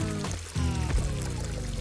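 Shower water pours steadily while someone rinses off shampoo, a continuous near splashing stream with a brief dip and surge partway through, no talking.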